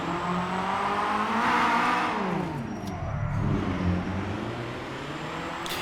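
Engine of a Honda Odyssey minivan in GTA 5, revving hard with rising and falling pitch sweeps, loud and close, with a hint of tire squeal.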